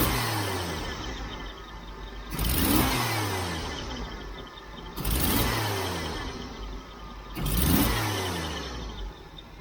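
A Jeep CJ-7 engine with fuel injection revving three times, rising and falling in even bursts, with a hesitant stumble on each throttle blip and a close, steady idle between them.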